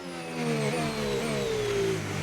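A Williams FW Formula 1 car in the F1 25 video game racing practice laps at Monaco, its engine screaming loud and steady with rising and falling pitch through gear changes.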